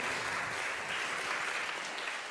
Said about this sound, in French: Et on peut donc applaudir bien fort Dorothée, Flora, Jean-Baptiste et Kevin.